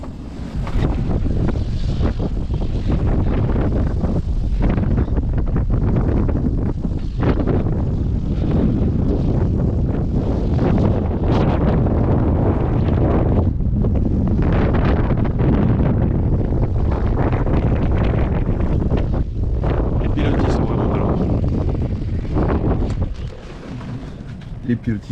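Strong wind of about 40 knots buffeting a sailboat at anchor, a constant roaring rush with microphone gusts and splashing water, loud and steady throughout.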